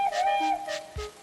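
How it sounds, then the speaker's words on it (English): A train whistle sounds in a children's animated railway story, three short tonal toots in quick succession followed by a low thump. "Then, Boris heard a whistle."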